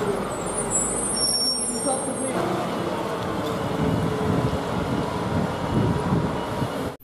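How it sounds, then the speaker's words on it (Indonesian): A concrete mixer truck rumbles past in traffic with a steady engine roar and a brief high hiss early on, loud and continuous, with a voice faintly in the background. "truk mixer teman-teman"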